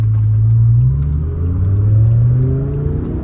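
A BMW E60 M5 engine roars inside a tunnel, its pitch climbing smoothly through the revs with a loud, echoing drone that stays close and unbroken throughout.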